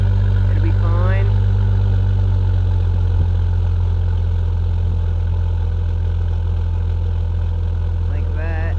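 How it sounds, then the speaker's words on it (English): A Jeep Grand Cherokee engine with a rough idle and stalling trouble runs close and steady with a low, continuous rumble, while a person talks briefly over it. "It idles. The other day it wouldn't start. You can hear it."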